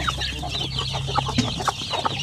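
A hen with fourteen chicks clucks steadily at close range, her soft repeated clucks mixed with faint chick peeps over a low farmyard hum.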